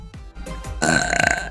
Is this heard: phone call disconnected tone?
no